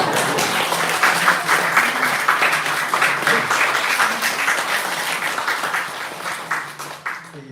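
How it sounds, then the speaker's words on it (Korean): Church congregation applause during a Sunday Easter sermon, a full, sustained wash of many hands clapping at close range, thinning and fading out near the end. "여러분 박수 좀 보내주세요."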